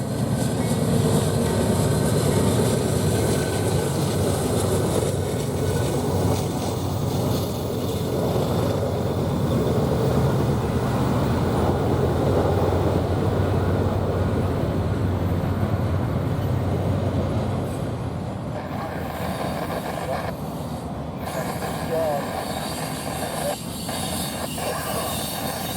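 Freight train headed by a brand new Dash 9 rebuild locomotive passing in Cheyenne, Wyoming at sunrise: a loud, steady rumble of engine and rolling wagons holding for about eighteen seconds, then easing slightly as the train continues by.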